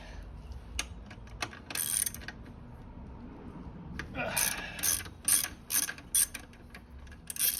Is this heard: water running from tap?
no